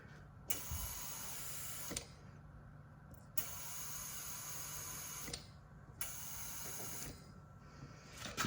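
A small air pump inflates the air spring suspension on a Ford F150, running as a steady mechanical whir near the truck and broken by several brief dips in a repeating rhythm.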